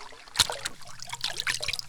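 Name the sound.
gold pan dipped into river water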